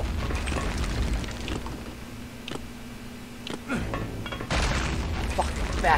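A grenade goes off in Return to Castle Wolfenstein, a dull boom rising out of steady game noise and scattered gunfire, followed by a louder burst of blast and debris near the end.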